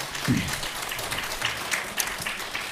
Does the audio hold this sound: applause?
yes